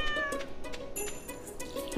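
A cartoonish cat meows in the farming video game Stardew Valley, a couple of short tonal mews over soft game background music, fairly close and moderately quiet with no talk.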